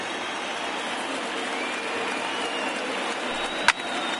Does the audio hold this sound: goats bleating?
no